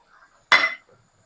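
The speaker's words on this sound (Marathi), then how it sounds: "हलवायची. थोडा वेळ हलवायची." A spatula strikes a pan once while spinach is stirred as it cooks: one short, bright metallic clink and scrape, close and fairly loud, with near silence before and after.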